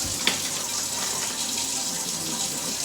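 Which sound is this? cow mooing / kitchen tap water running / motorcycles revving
kitchen tap water running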